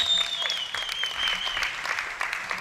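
Applause rises from a crowd at a European championship rifle three-positions mixed team final, marking a Swiss win, with steady clapping throughout and a thin high tone running across it.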